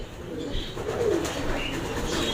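Domestic pigeons coo softly in a loft, a low murmuring call sitting close over steady background hum.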